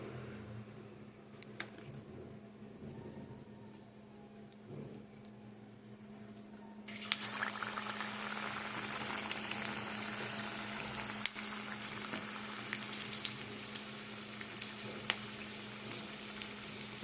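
Green chilli fritters coated in coriander batter are lowered into hot oil, and after a quiet stretch of faint clinks a loud, bright, crackling sizzle bursts in and keeps going steadily, with no voices.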